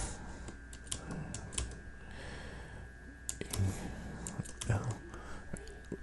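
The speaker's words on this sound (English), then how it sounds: "And then I'm going to type in travels, right?" Quiet, scattered keystrokes on a computer keyboard while entering letters for CSS web work, soft individual clicks with pauses between them, heard under low close-miked speech.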